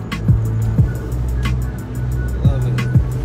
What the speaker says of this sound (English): I love doing videos when I'm in traffic.